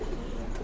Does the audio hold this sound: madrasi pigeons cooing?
yes